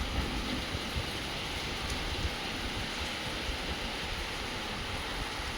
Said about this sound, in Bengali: ভালোই ঝড় বৃষ্টি আরম্ভ হয়ে গেছে।